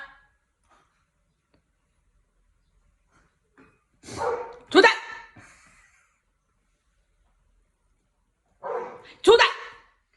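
A large golden retriever, the older dog, barks frantically while the youngest goes into a swimming pool alone: two separate pairs of loud, sharp barks a few seconds apart, close by, with silence in between.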